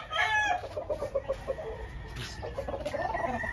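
Roosters crow at a chicken farm, one loud nearby crow followed by overlapping clucking and further crowing from many fowl at varied distances, a busy continuous farmyard chorus.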